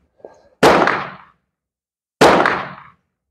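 Two gunshots from a Romanian M44 Mosin Nagant rifle, each a sharp loud crack with a decaying tail, about one and a half seconds apart, heard close and alone.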